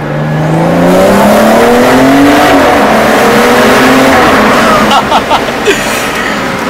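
A BMW M235i with a downpipe mod accelerates loudly through a tunnel, engine pitch climbing steadily before a shift, then exhaust pops and crackles near the end, heard from inside the car.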